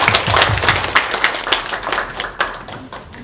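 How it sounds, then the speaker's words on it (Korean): A small audience at a citizens' public forum on household waste and incineration facilities applauds. The clapping is sparse and uneven, with distinct individual claps that thin out toward the end. "이분들을 위해서 박수 한번 주십시오."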